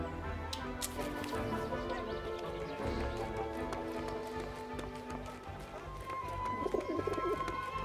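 A pigeon coos in the video game 11-11: Memories Retold. The soft calls sit among steady background music and other ambient game sound, with a faint clip-clop rhythm as well.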